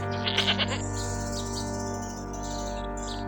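A goat bleats in a short wavering burst near the start, then a steady background hum with faint chirpy bird-like sounds carries on alone.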